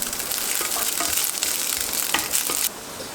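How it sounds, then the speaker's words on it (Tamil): Rice halwa with ghee sizzles in a hot pan while it is stirred constantly, a loud, dense frying hiss broken by scraping strokes that ends abruptly near the close. "1 மினிட்டுக்கு நீங்கள் கையெடுக்காமல் கிண்டிகிட்டே இருக்கணும்."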